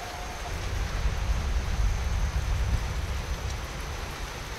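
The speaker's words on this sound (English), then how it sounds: "Just a rainy night." Steady rain falls in a dense, even hiss with a low rumble beneath, constant and close for the whole stretch, with no voices.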